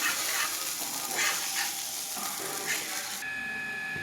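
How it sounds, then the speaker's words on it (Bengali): Soya chunks fry golden in hot oil in a pan, giving a continuous close sizzle with soft stirring scrapes, before a brief electronic beep near the end. "গোল্ডেন ফ্রাই হচ্ছে একদম, অলরেডি হালকা হালকা গোল্ডেন হতে শুরু করে দিয়েছে।"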